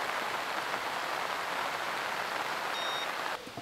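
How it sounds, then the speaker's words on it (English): Pouring rain at an outdoor fishery, a loud dense hiss of heavy drops drumming on surfaces, steady and close until it drops off abruptly near the end. "I just got a call from Lee in the pouring rain, so I'm a bit wet"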